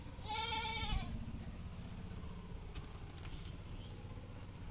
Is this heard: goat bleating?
yes